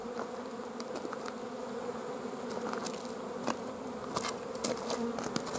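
Honeybees buzz steadily at a beehive entrance in an apiary in early March, a dense close swarm drone with individual bees passing near the microphone.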